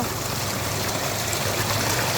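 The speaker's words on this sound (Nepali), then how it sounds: "सलल कस्तो क्लियर पानी छ।" Clear water pours down a small waterfall stream, a close, steady rushing and trickling flow that fills the scene without a break and with no voices.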